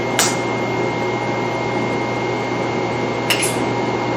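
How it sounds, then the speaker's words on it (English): A vacuum pump roughs down a semiconductor tool's load lock chamber, giving a steady, loud broadband hiss with a constant hum and two brief clicks. "Now we can pump the load lock down by switching it from standby to high vacuum."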